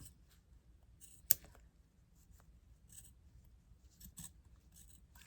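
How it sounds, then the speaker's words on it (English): Scissors carefully trim elastic from a bra strap, giving a sharp close snip followed by several faint, scattered clicks and small cuts in a quiet room. "I'm going to trim this off very gently"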